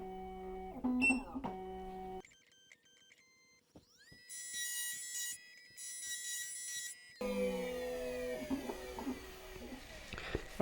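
A Black Widow key machine cuts a laser-cut single-sided key, giving steady electronic tones and whirring motor segments with short mechanical clicks, close and moderately loud.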